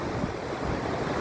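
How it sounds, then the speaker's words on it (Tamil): Fast-flowing water of the Sankarabarani river in flood, a steady, loud, broadband rushing roar with no breaks and no voices. "தண்ணி எவ்வளோ வேகம் போகுது பாருங்கள்"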